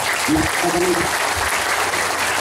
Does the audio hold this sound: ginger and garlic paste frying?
no